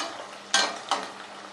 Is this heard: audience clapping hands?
no